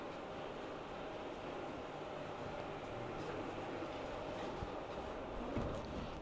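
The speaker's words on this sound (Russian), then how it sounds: "Вот какой-то состав идет." A train rolls past on a full-size railway line in Moscow, a steady low rumble with faint rhythmic wheel clatter at a moderate distance, constant throughout with no talk.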